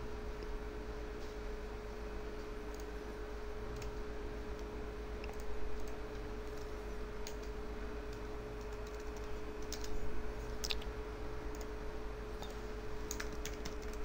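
Steady, soft typing on a computer keyboard as a username is entered, with a continuous patter of light key clicks over a constant background hum and no talking.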